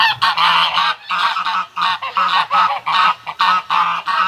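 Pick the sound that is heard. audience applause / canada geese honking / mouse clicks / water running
canada geese honking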